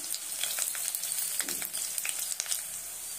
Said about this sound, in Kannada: ಜಜ್ಜಿಟ್ಕೊಂಡಿರುವಂಥ ಬೆಳ್ಳುಳ್ಳಿ ಹಾಕ್ತಾ ಇದ್ದೀನಿ, ಒಂದೆಷ್ಟು ಕರ್ಬೇವಿನ ಸೊಪ್ಪು, ಹಿಂಗೆ ಹಾಕ್ತಾ ಇದ್ದೀನಿ